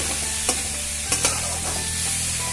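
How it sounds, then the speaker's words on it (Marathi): Chopped vegetables with capsicum stirring and softening in a kadhai, a low steady sizzle with a few sharp spatula scrapes and clinks, close and alone without talk. "ह्या भाज्या आपल्याला मऊ होईपर्यंत चांगल्या वाफवून घ्यायच्या आहेत"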